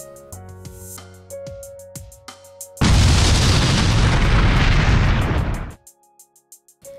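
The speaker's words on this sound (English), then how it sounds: "you can make your explosions look like this" A massive explosion bursts in after a few quiet clicks, a loud roaring blast that rumbles for about three seconds before cutting off into silence.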